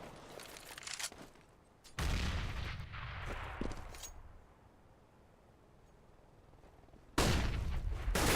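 In a Counter-Strike match, a flashbang grenade goes off with a sharp loud burst, followed by a muffled ringing stretch and another loud blast near the end, with scattered gunfire early on.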